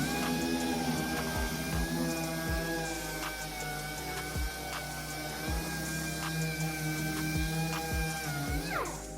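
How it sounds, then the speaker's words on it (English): Rotary sander fitted with a 320-grit disc rubbing down the painted body of a bulk recycling trailer, a steady close whine with harmonic hum and a series of regular rhythmic knocks as it passes over the panel. "I've got a 320 disc on the sander. I'm just going to start rubbing it down."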